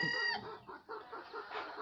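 Desi chickens on a poultry farm give close, busy clucking with a rooster-like call at the start, a steady chorus of hen sounds throughout.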